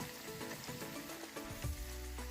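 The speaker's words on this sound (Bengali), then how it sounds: "বাহ, কি সুন্দর ভাজা হচ্ছে" Cabbage gobi manchurian balls fry in hot oil in a pan, making a soft, steady sizzle with faint crackles and no voices.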